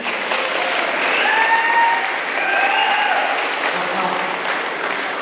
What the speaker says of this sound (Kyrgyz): баарыбызды кол чабып койгулачы